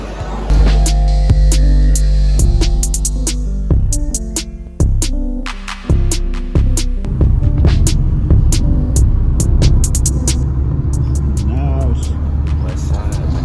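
A steady low engine hum fills the inside of a car in Cancun, loud and constant, while several voices talk and laugh over it.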